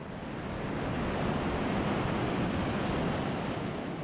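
Ocean surf at Tunitas Creek Beach on the California coast rolls in as a steady, broad roar of breaking waves, loud and continuous, with wind buffeting across it and no voices.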